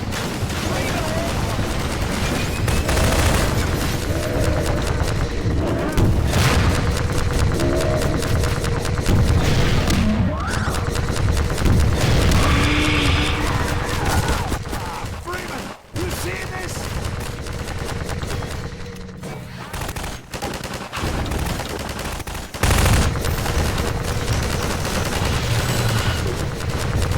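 Dense gunfire and booming explosions fill a battle at a sawmill with a Strider in Half-Life 2: Episode Two, sustained rapid bursts and heavy blasts rolling on almost without pause, loud and close.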